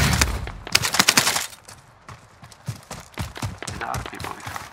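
Bursts of video-game gunfire in a shooter match, with rapid volleys of shots early and scattered single cracks later, mixed with footstep-like thuds and faint player voices in the background.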